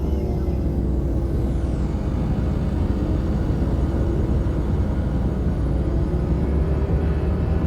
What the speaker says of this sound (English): I love a ship takeoff scene